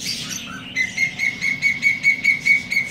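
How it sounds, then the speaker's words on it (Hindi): An Asian koel calls in the morning, a clear repeated rising whistle note sounded about seven times in steady rhythm, fairly close and loud over quiet background. "कोयल आके बैठी है"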